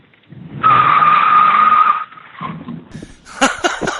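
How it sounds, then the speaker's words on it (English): Car brakes lock up in a loud, sustained tire squeal lasting over a second, a sharp skid that cuts off abruptly and gives way to rougher rumbling and clattering impacts, with no voices present. "We're going to put the brakes on something right now."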